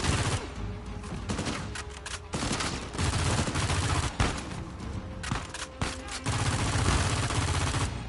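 Sustained rapid gunfire crackles through a sniper fight in the video game Uncharted 4, dense overlapping shots and bursts continuing loudly throughout with no talking.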